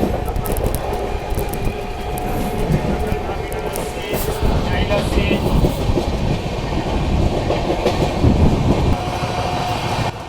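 Indian Duronto Express passenger train running at speed while overtaking the Mahabodhi Express, a steady loud rumble of wheels and carriage noise throughout, with a faint voice now and then.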